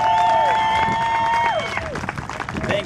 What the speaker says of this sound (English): Y'all give Mr. Ruiz a round of applause